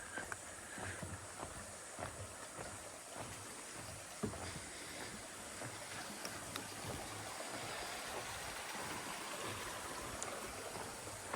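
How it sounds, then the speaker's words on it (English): Greenant Creek in Litchfield National Park flowing with a steady soft rush of water, faint and continuous throughout with small occasional splashes and no talk. "So this is Greenant Creek."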